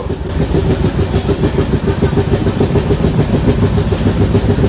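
Tamralipta Express from Howrah heading toward Digha, running at speed with a loud, continuous rumble and rhythmic clatter of wheels over rail joints.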